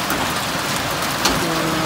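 Heavy rain mixed with hailstones pours down in Taif, Saudi Arabia, a dense, steady hiss close by with one sharper knock partway through.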